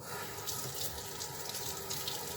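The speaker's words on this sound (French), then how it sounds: "En même temps, je rince ma lavette" Tap water runs steadily into a sink as a cleaning cloth is rinsed during fruit salad preparation on a kitchen worktop, a continuous close splashing hiss with no talk.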